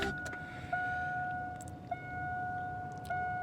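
An older car is switched on with the key without starting the engine, bringing steady electronic chimes that repeat in even pings over a low idle-free hum, with small key jingles and clicks, close by.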